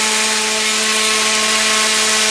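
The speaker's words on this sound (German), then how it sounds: "Wir gehen hier mit dem Schleifstang rein und entgraten hier oben nur die Bereiche oberhalb des Auslasses." A grinding stone deburrs the area above the exhaust port inside a two-stroke cylinder, giving a steady, loud, close whine with a constant pitch and no talk.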